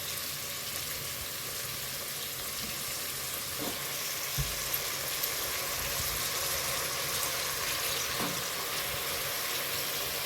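Chopped brinjal frying in hot oil for vangi bath, a steady close sizzle that continues throughout with faint stirring knocks from the pan and no talking.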